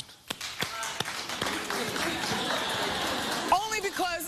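A daytime talk-show studio audience claps in a steady wash of overlapping hand claps, with a few sharper individual claps standing out at the start; voices break in near the end.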